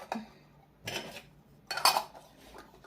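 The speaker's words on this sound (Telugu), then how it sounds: "సో ఇది కంప్లీట్గా 5 పీస్ సెట్ అండ్ మూతలతో కలిపి 10 పీస్ అనమాట." Small miniature cooking pots and their lids, part of a tiny real-cooking utensil set, clink together in three or four separate light metallic knocks spaced apart, close and fairly quiet with no talking.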